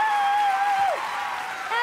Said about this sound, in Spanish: fuerte el aplauso para las monjas, para Esperanza, para todas ellas